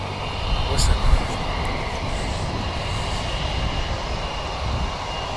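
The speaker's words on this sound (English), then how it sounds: "Our Jetstar is off to Auckland today" A Jetstar airliner departs Wellington Airport bound for Auckland, its engines giving a loud continuous roar that holds steady throughout, with a voice briefly heard over it near the start.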